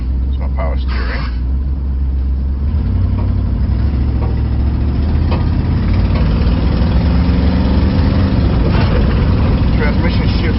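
A 1986 Ford F250 4x4 truck's engine runs steadily with a low, continuous rumble that swells slightly partway through, heard from close by, with bits of talk over it.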